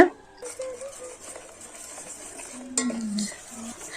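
A utensil scrapes and clinks against a pan as tomato sauce is stirred, with light metallic knocks and a faint background hum.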